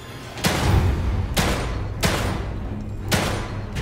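Gunfire in the survival horror game The Evil Within 2: four loud, sharp shots spaced about a second apart, each with a booming tail over a low rumbling background.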